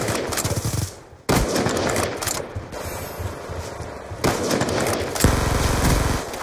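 Dense automatic gunfire in Call of Duty Black Ops 2, loud and close, with long sustained bursts broken by a brief pause and renewed heavy firing.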